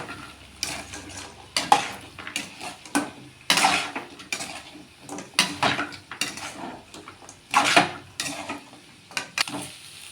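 Cauliflower florets tossed and stirred in a pan for gobi manchurian, with repeated close scraping strokes of a spoon against metal over a light sizzle, in uneven bursts.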